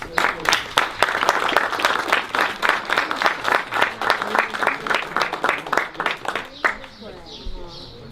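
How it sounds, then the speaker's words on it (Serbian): An audience applauds a troupe of knights at a medieval combat show, clapping loudly in a steady, rhythmic beat for several seconds before a voice speaks over the dying claps. "Jedan aplauz za njih, molim vas."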